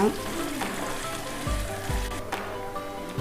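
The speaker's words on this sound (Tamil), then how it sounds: "வெங்காயம் நல்லா ப்ரௌனாக வர வரைக்கும் வணக்கிக்கோங்க." Onions with curry leaves sautéing in a pan for a white chickpea chilli dish, a close sizzle with a few low thumps and scrapes of stirring over the short stretch.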